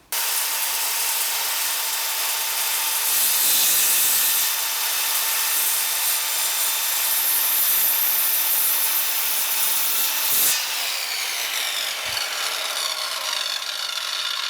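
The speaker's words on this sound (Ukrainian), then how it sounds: "Так, перевіримо, чи різ буде йти рівно по намальовані лінії." Dnipro-M CS 185 M circular saw cutting through wood along a marked line, a steady, loud, continuous rasping cut that holds for most of the stretch before its tone shifts and tails off near the end, with no talk.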